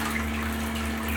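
Conair Dual Jet Bath Spa running on its bubble setting in a filled tub, a steady low motor hum under soft, continuous churning water, fairly quiet and unbroken.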